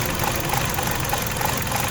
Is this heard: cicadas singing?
no